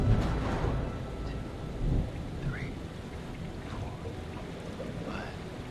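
A thunderstorm in the horror video game Man of Medan: steady rain and low rumbling thunder fill the scene, with a louder roll near the start and distant crackles, continuous throughout with no talking.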